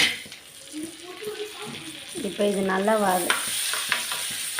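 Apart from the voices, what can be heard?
spices sizzling in hot oil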